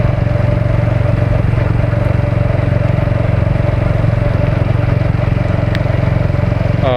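Close, loud motorcycle engine on a short Sunday ride through Dehradun, its steady throbbing beat droning on without a break.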